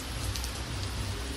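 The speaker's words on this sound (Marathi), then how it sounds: "पाऊस बी पडायला लागला आहे भरपूर." Heavy rain pours down steadily outdoors in a Marathi village setting, a dense, continuous hiss with low rumble and no pauses throughout.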